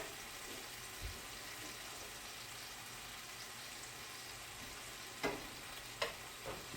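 Hamburger meat frying and browning in a pan, a continuous soft sizzle with a few brief clinks and scrapes.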